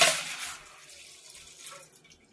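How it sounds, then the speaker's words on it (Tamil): Milk poured into a pot set on a kitchen stove, a brief liquid splash and pour that starts loud and settles into a softer trickle, with no one talking. "ஒரு குண்டாவை அடுப்புல வச்சு பால் ஊத்திடலாம்."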